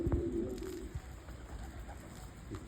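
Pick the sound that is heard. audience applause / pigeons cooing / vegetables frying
pigeons cooing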